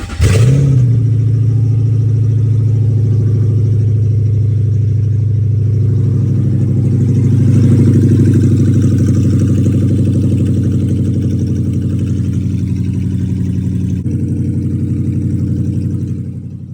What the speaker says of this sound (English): give it a test start, see how everything's running